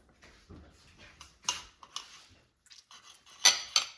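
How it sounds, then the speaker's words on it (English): A knife cuts through a pan-fried, browned bratwurst on a plate, giving a series of close, scattered scraping and clinking taps of cutlery against the plate, with the sharpest clicks near the end. "So now let me just cut one so you could see the inside."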